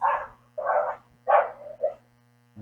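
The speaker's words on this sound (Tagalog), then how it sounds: "Pasensya na kung may background na maingay ha, yung mga aso nag-aaway." Dogs barking and snarling as they fight in a large parking lot, four rough bursts in quick succession, fairly close, over a steady electrical hum.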